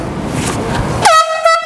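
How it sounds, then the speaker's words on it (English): An air horn blasted in public as a prank, a sudden loud, piercing honk that cuts in after a moment of street noise and holds steadily to the end. "today we're about to blow air horns."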